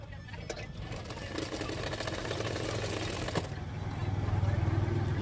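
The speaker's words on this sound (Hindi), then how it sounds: "किनारे पे मैं एक सिलाई कर दूँगी।" A sewing machine stitches along the edge of a lace latkan, running in a steady rapid whirring rhythm close by for several seconds and growing slightly louder toward the end.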